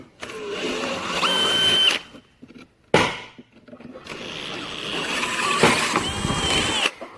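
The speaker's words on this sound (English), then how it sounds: "I have to go drill those out just a tiny little bit." Two bursts of a power drill whining and grinding through the metal of a worn grain tank auger trough, separated by a short pause and a clunk, the second run longer and louder.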